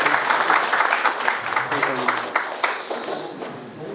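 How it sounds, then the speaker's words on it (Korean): A church congregation applauds, with sharp overlapping claps forming a lively patter for several seconds. The clapping fades slightly toward the end while a voice speaks over it. "우리 저희 박수 한번 쳐주시죠."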